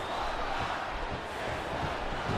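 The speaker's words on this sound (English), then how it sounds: "The crowd is coming alive" A video game arena crowd in WWE SmackDown vs. Raw 2008 roars during an Undertaker vs. Rey Mysterio Last Man Standing match, a steady dense swell of cheering throughout.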